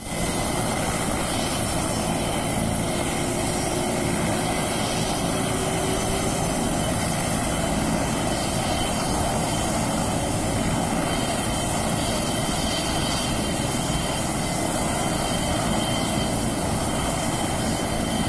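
A helicopter taking off from Begumpet Airport flies steadily overhead, a loud continuous rotor and engine roar with broadband wash that holds unchanged for the whole stretch, with no voices.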